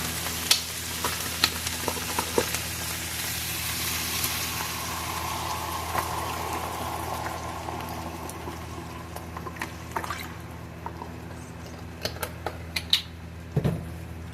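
Beef broth and au jus seasoning being stirred for a slow cooker roast, a soft continuous swishing with scattered light clicks of the spoon against the pot, no voices.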